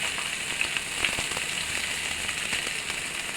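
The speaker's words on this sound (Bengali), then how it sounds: "রসুন কুচি পেঁয়াজ কুচিটা একটু ভাজা ভাজা করে নেব" Chopped garlic and onion fry in hot oil in a pan, giving a steady, close sizzle with scattered small crackles and pops throughout, no talking.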